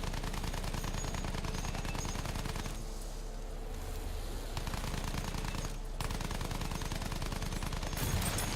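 Rapid machine-gun bursts from fighter planes in a Battlefield 1 dogfight, a loud, dense stream of automatic fire running nearly continuously with a short lull in the middle.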